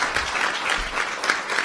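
A brief, quick round of crowd applause at a community housing conversation meeting, a dense, even patter of many hands clapping throughout, with no speech.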